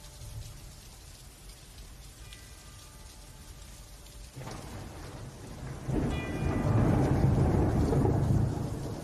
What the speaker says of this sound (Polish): Pamiętacie ten początek, deszcz i te pierwsze dźwięki.